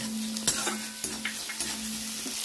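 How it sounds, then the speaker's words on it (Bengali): Chopped onion, tomato and green chilies with a little salt fry in a pan, giving a steady bright sizzle broken by several sharp spatula clacks and scrapes as the mixture is stirred. "পেঁয়াজ কুচি, টমেটো কুচি দিয়ে ভালো করে ভেজে নেব।"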